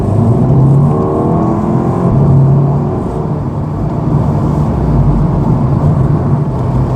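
An Audi S3 accelerates under gentle throttle, giving a loud, continuous engine whir and road roar that holds steady throughout without speech.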